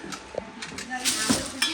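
Steel kitchen vessels are handled, giving a few soft metallic clinks and knocks over a brief moment, close and fairly quiet.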